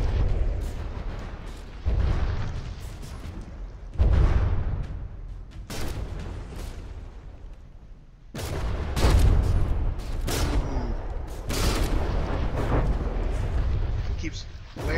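Naval guns firing in a warship battle video game, shells striking a gun barbette: repeated heavy booms and blasts in irregular bursts, loud and close, with speech partly over them.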